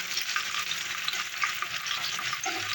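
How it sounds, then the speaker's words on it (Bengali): Chopped onions fry in hot oil for an egg omelette curry, giving a steady close sizzle with light stirring scrapes and no voices. "তেল গরম হয়ে গেছে, পেঁয়াজ কুচি দিয়ে দিলাম, এটাকে লাল লাল করে ভেজে নেব।"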